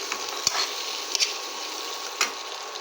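Turmeric, chili powder and ground coriander-cumin are stirred and sautéed in a pan, with a faint, even sizzle and a few soft clicks of the spoon.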